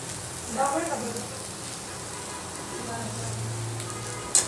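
Eggplant masala sautéing in oil in a pan for stuffed brinjal, a steady close sizzle and frying crackle throughout with a faint low hum and a brief clink near the end, no talking.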